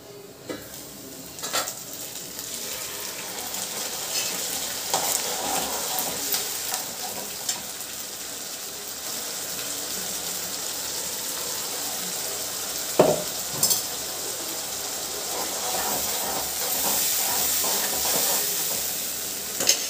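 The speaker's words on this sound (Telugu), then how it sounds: "ఇది మంచిగా ఫ్రై అవ్వనిక" Tomato paste for tomato upma sizzles and fries in a pan, a steady hiss with occasional stirring scrapes and clinks, close and fairly loud, no one speaking.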